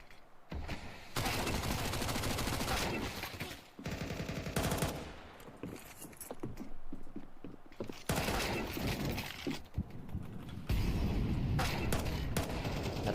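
Sustained automatic gunfire in a competitive esports shooter match, with dense overlapping bursts and rattling volleys that continue almost without pause. A quieter lull comes briefly near the middle, and the volleys resume loudly toward the end.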